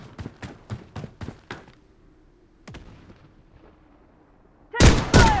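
Gunfire in the Blood Strike shooter game: a quick run of six sharp shots, a lone shot after a pause, then a loud burst of close fire near the end.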